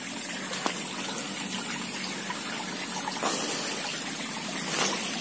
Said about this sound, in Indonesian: Oh, ini penampakan sungainya ya sahabat.